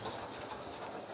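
A pet pigeon coos softly while being fed peanuts, a low, muffled, continuous murmuring tone with faint background hiss and no voices.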